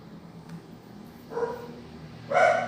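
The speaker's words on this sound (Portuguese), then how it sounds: "Cala a boca, cachorros." Dogs bark twice from some distance, short sharp yaps spaced about a second apart, the second louder, over a quiet room hum.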